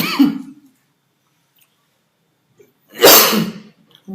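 Two abrupt, forceful bursts of coughing from one person, close to the mic, separated by a few seconds of silence.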